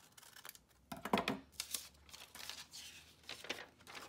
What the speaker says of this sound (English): And then I'm just gonna cut with my scissors.